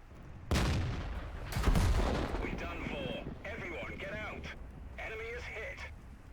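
In World of Tanks, the British heavy tank Caernarvon fires its gun as two deep booms in quick succession, followed by rattling impacts and clanks, while someone talks in the background.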